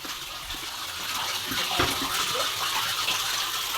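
Water pours and splashes steadily in a bathroom during a bath, a continuous close gushing wash with a few louder splashes and no speech.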